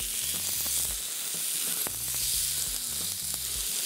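Pieces of pork laid into a hot frying pan for ojakhuri sizzle loudly and steadily, with occasional scrapes and knocks of a utensil nudging the meat around the pan.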